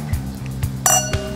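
Glasses clink together in a toast at a restaurant wine cellar meal, several bright chinks in quick succession, close and alone without talk.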